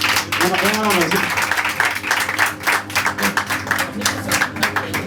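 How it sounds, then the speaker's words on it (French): An audience applauds an artist's introduction on stage, dense clapping continuing steadily while a voice speaks over it. "On l'appelle la Dauphin Boulamata, d'ici vos applaudissements."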